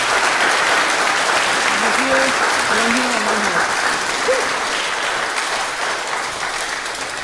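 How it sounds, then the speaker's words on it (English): An audience at a children's march opening rally gives sustained, dense applause with many hands clapping at once, while a few voices call out briefly over it; the clapping stays strong throughout and eases only slightly at the end. "Put your hands together and give a round of applause for Ziva Haviland and Nitya Panwar"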